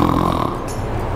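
A voice imitates snoring with a rough, buzzing nasal snore, close and steady for about a second.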